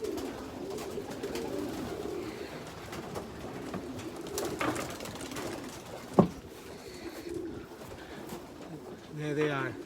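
Young racing pigeons coo at a nearly empty loft, soft low cooing continuing through the scene at close range, with a voice speaking and a brief clatter midway.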